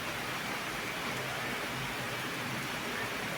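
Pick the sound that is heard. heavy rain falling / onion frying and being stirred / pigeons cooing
heavy rain falling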